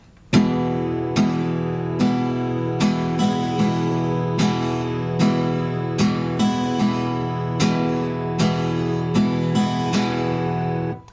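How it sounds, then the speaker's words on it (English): An acoustic guitar plays a steady strumming pattern of mostly downstrokes with one upstroke at the end of each cycle. The chord rings close and clear with evenly spaced strokes, and no voices are heard. "The next thing I want to show you is a strumming pattern with mostly downstrokes, but one upstroke at the end"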